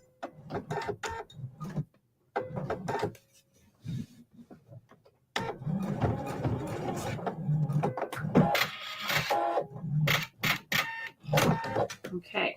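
A home sewing machine stitches flange binding on a quilt and pivots off the corner, running in loud bursts with short pauses. Someone talks over part of it.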